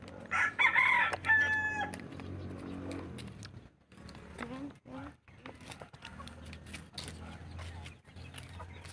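A rooster crows loudly nearby while chickens cluck around it, followed by scattered softer clucks and rustling, with people talking intermittently.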